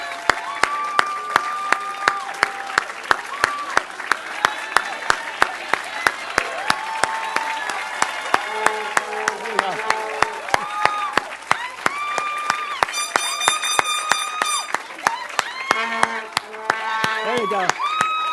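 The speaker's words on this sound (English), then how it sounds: "Family and friends, would you just stand up so we can give you a round of applause," Audience applause from family and friends standing at an Ed.D. educational leadership hooding ceremony: a long, steady wave of many hands clapping indoors, sustained throughout with a few cheers and voices mixed in.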